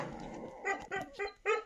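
A Labrador dog gives four short, sharp barks in quick succession close by, following a brief stretch of low rustling.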